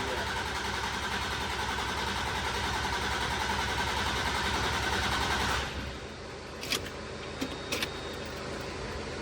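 A Land Rover Defender engine, being started after its fuel filter was found empty, runs with a loud, steady rumble for about six seconds, then drops away to a quieter background broken by a few sharp clicks.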